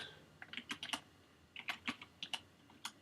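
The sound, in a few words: typing on an ergonomic computer keyboard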